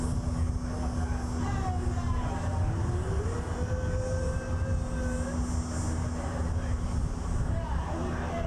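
A WestJet Boeing 737 MAX 8 arriving at Toronto Pearson makes a continuous jet roar with a faint rising whine, heard at a distance over steady broadband noise and low hum.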